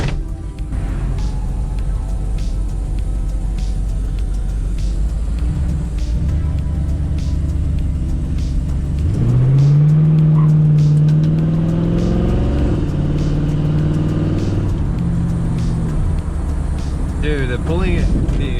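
A 1965 Ford Thunderbird V8 pulls hard at wide open throttle from inside the car, a steady loud engine roar that climbs in pitch midway, with other sounds around it.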